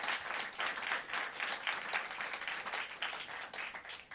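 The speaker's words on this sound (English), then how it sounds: "Give them all a big round of applause." An audience at an outdoor groundbreaking ceremony for family housing applauds in a steady, crowded burst of many hands clapping, moderately loud and sustained throughout.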